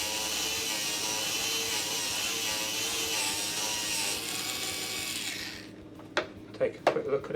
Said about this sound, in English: You can hear the noise change. You want to keep the sandpaper moving around.